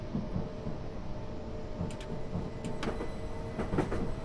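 A train in Train Simulator 2016 rumbles along the rails through London, with a steady low drone, irregular wheel clicks and a few bright metallic squeaks, no talk.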